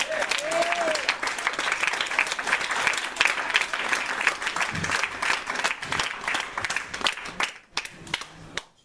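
An audience at an open-mic slam poetry night in Angers claps for the poet Cazel, a dense sustained round of applause that thins into scattered claps at the end. A brief whoop or whistle rises at the start.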